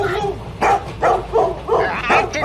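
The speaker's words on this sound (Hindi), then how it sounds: "इसको चुप कराओ, भौंके चला जा रहा है हमारे ऊपर।" Dog barking on board a train, a series of short sharp yaps and whimpery barks in quick bursts, close and fairly loud, with a person's voice mixed in.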